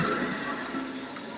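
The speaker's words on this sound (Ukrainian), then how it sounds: "Включаємо воду." Water runs steadily from a kitchen faucet fitted with an aerator, a continuous close hiss and splash heard alone for a short moment.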